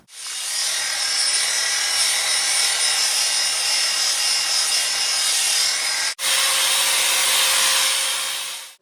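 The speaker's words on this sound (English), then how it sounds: "We're going to start out with a 200 resin diamond pad on our wet" A wet grinder with a 200-grit resin diamond pad polishes a countertop, making a loud, steady whirring rasp that drops out for an instant partway through and then carries on.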